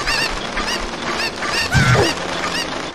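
Cuckoos, the chicken-like birds of Kakariko Village in a Zelda game, cluck and squawk in a busy, honking cluster of repeated calls, loud and close with no talking.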